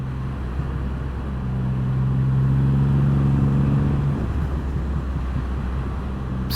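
A Triumph Rocket 3R cruiser motorcycle rides in sport mode on mountain roads after a downshift from fifth gear, its engine note rising into a steady loud drone over heavy wind rumble before easing off.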